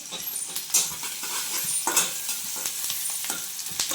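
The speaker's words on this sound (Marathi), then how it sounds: "आणि आपण हे लसूण घेतलेलं आहे किसून, ते लसूण पण टाकून घ्यायचं." Grated garlic sizzling with vegetables in a hot pan, a close crackling fry broken by frequent stirring scrapes and light clinks, and no voices.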